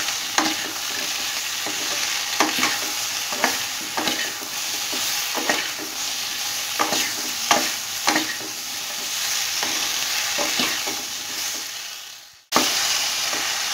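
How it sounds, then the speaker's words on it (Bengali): Jujubes stirred continuously in a little oil over high heat for a pickle: a rhythmic series of scraping, clattering spatula strokes over a constant sizzle, cutting off sharply just before the end. "হাই হিটে রেখে কন্টিনিউ নাড়াচাড়া করে 1 মিনিটের মতো কুলটা আমি একটু তেলের সাথে"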